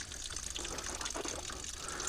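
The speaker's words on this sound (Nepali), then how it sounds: "डाइरेक्ट मूलबाट झरेको पानी" Natural spring water pours straight from its source beside a hillside highway, a steady close gushing and splashing that runs unbroken throughout.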